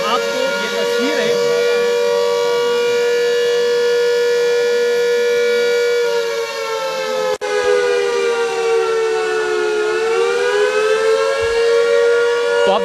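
A civil defence air raid siren sounds during a drill in Shimla with a loud, steady wailing tone that holds and then dips and rises slightly in pitch, ringing continuously.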